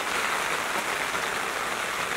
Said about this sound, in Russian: вот сейчас идет очень сильный дождь